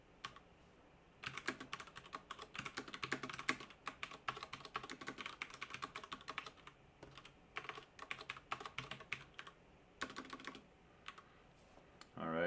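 Someone types code on a computer keyboard, a steady close run of quick key clicks in bursts with short pauses between them, continuing for over ten seconds at low level with no talk.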